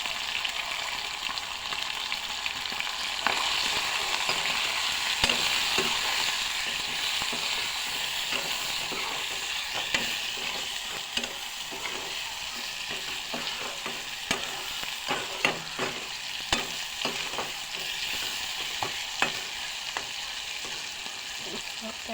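Chicken frying with radish seeds in a pan, a steady close sizzle with scattered crackles and pops and occasional stirring clatter throughout, no voices.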